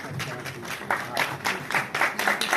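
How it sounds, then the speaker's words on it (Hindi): A workshop audience of teachers claps in uneven surges that swell and fade, with voices murmuring underneath. "आपकी तालियों की गड़गड़ाहट रुकनी नहीं चाहिए दोस्तों।"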